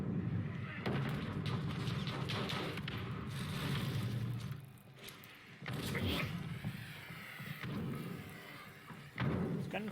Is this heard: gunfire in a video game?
yes